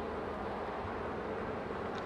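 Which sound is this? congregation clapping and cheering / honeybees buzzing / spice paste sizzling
honeybees buzzing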